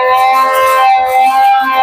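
Civil defense siren sounding during a mock drill after a simulated bomb blast, a loud, steady, droning wail with a distorted, harsh edge that holds without pause.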